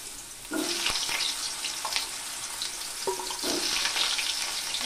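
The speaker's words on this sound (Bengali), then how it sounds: "এই তেলে আমি আলুগুলোকে ভেজে নিব" Potatoes frying in hot oil in a home kitchen pan, a steady broadband sizzle throughout with a couple of brief tonal clinks, close and fairly loud with no talking.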